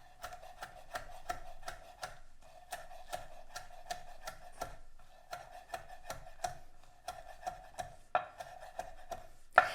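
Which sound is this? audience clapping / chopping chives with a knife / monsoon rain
chopping chives with a knife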